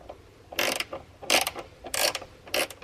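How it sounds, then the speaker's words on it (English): Ratchet tightening a nut on a ground wire on a Dodge Hellcat, four short bursts of close, crisp clicking with brief pauses between strokes. "I'm just going to tighten the nut back."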